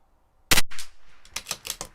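A CZ 457 .22 rifle fires Norma Match-22 rimfire ammunition at an outdoor range, one sharp close crack followed by a rolling echo and several quicker fainter clicks or reports.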